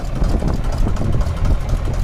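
A tractor engine runs close by with a steady, rumbling idle, heard alone and without talk. The tractor is clearing coconut tree stumps in a field and has just been pulled out of a pit.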